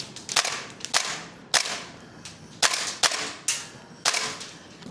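A SCAR MWS gas blowback airsoft rifle fitted with a steel bolt, firing about ten sharp, close shots with slightly irregular spacing, each a loud crack with brief rattle, no talk.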